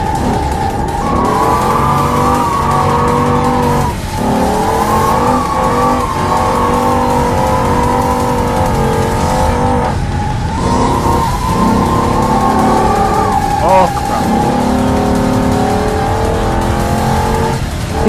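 An Ibishu Diadem drifts in the BeamNG driving game, its engine droning loudly and continuously while the revs rise and dip with each slide, accompanied by steady tire noise, with no talk.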